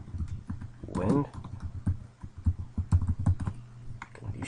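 Keys clack on a computer keyboard in quick, irregular bursts, close and moderately quiet, with a brief voice sound partway through.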